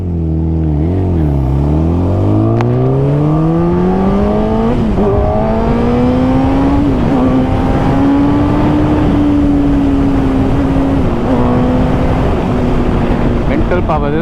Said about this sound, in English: This is a bloody 200 horsepower bike.